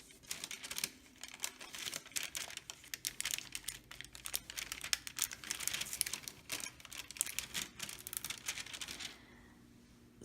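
Wax paper crinkled and crumpled by hand in close-up for ASMR, a steady run of crisp, dense crackles lasting several seconds before stopping abruptly, with no talking.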